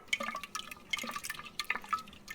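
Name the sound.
stirring fermenting makgeolli rice mash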